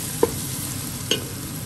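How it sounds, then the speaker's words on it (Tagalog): Onions sautéing in a pan as the first step of a chicken biryani, a steady close sizzle with two brief scraping stirs cutting through, no voices. "So, gisan natin yung sibuyas natin."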